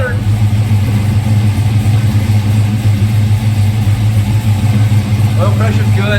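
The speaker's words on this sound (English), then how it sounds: "And it's idling." A car engine idles steadily up close with a loud, even low rumble, and a voice briefly talks over it near the end.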